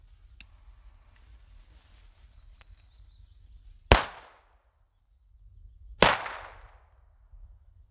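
Firecrackers set off outdoors in the Czech Republic: two loud, sharp bangs about two seconds apart, each with a quick crackling decay, preceded by faint clicks over low background rumble.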